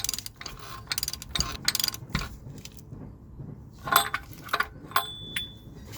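Ratchet clicking as an oil filter housing is snugged down on a 2007-2016 Toyota Sienna, a few bursts of quick mechanical clicks and metallic ticks, close and fairly quiet, with no talk.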